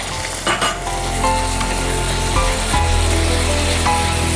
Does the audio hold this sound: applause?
no